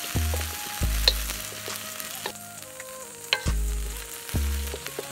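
Ingredients for a chicken curry fry in hot oil with a continuous close sizzle, while a spoon stirs and scrapes the pan in several brief clanks and bursts.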